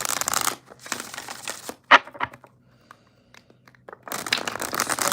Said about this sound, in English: I'm just going to do maybe 3 good shuffles